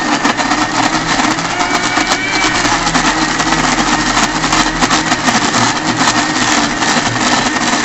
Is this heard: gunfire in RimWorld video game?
no